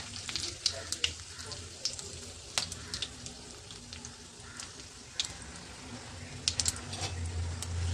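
Cumin seeds and dried red chillies sizzling in hot oil for a dhaba-style mustard greens dish, a quiet steady crackle with scattered sharper pops and occasional stirring clatter, close to the pan.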